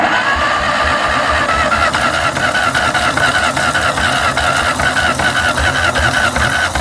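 A 1953 Ferguson TO-30 tractor engine, left sitting for 15 years, cranks and turns over close by with a loud, steady, rhythmic mechanical drone throughout.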